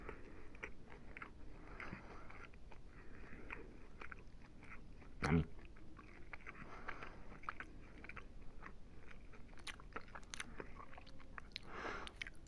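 Crunchy bites and chewing of toast, close to the mic, with a single loud crunch standing out among steady, softer chewing sounds.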